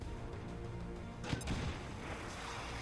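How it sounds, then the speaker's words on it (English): A grenade explosion in the XCOM 2 video game lands as a single muffled boom and crackle midway, rising briefly over a faint rumbling game background. "He's going to lob that grenade in there."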